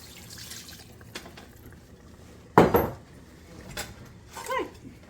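Thickening gravy being poured into a pan and worked with a metal spatula, giving scattered scrapes and clinks with one loud metallic clatter in the middle, over quiet kitchen background.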